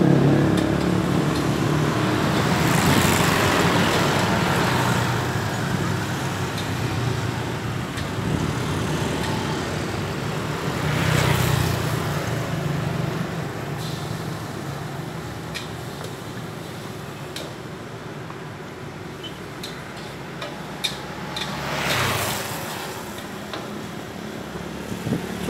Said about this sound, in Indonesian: Cukup ramai ya, kendaraan roda 2